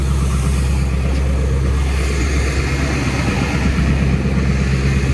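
A 1974 Ford F250 SuperCab with a 460 engine, parked for 14 years, runs with a diesel-like rumble, loud and close, a steady unbroken idle with no talking.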